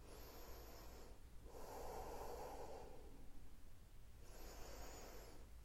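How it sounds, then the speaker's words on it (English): Slow, deep breathing during a guided cortices relaxation exercise: a couple of soft, drawn-out inhales and exhales, close and gentle, with no talking. "A couple of nice big deep breaths."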